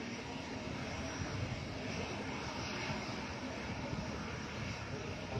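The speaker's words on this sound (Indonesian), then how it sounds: "memantau penerbangan perdana pesawat maskapai" Susi Air propeller airplane on its maiden flight from Makassar, arriving at Arung Palakka airport: a steady, broad engine drone holds at even loudness throughout, with no voices on top.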